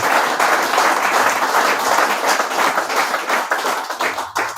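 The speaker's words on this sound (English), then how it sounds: "Give him a round of applause for that." A crowd at a football club talk-in at a pub gives a steady round of clapping and applause, dense and lively, fading slightly toward the end.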